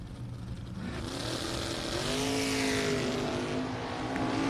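Chevrolet Camaro drag car launching at a drag racing event, a loud sustained engine roar climbing in pitch, steady and close with no speech over it.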